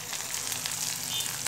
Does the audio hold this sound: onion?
yes